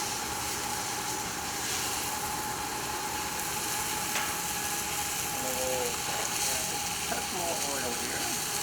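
Rockfish fillets sizzling in hot oil in a pan, a steady loud frying crackle throughout with a faint hum beneath.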